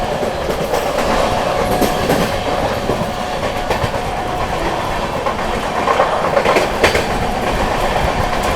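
A Purva Express train rushes past Mirzapur station without stopping, a loud continuous rumble with rhythmic clickety-clack of wheels over rail joints, close and sustained throughout.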